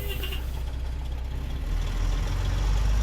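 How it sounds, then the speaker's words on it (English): A Kenworth W900L truck engine in American Truck Simulator, driving in Missouri, gives a deep, throaty idle-like growl that holds steady, then thickens and gets louder partway through as the rumble builds. "But it's nice and throaty. Just has a nice growl to it."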